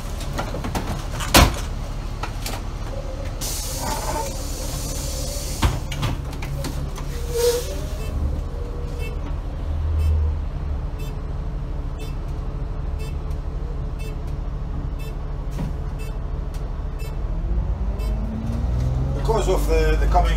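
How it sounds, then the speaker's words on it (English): A 2006 Optare Solo M950 single-deck bus with a Cummins diesel engine drives along, its steady engine drone and road rumble continuous throughout with occasional knocks and rattles, heard from inside the vehicle. "we'll go for a little spin just now, and we'll take you for a little run in the bus."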